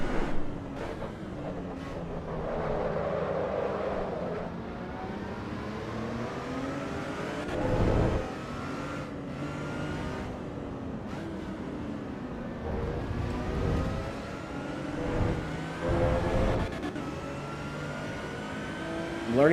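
A race car engine in the Assetto Corsa EVO sim drives through repeated climbs in pitch as it accelerates out of corners and up through the gears, with brief drops at the shifts, loud and continuous with no talk.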